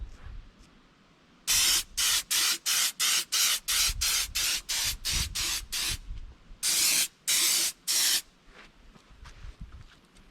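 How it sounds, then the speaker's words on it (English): Rapid series of short, loud aerosol bursts of automotive clear gloss coat sprayed onto a resin torso casting in a steady rhythm, then a brief pause and a few longer bursts, close up. "Now we're going to spray this with a clear coat of automotive gloss"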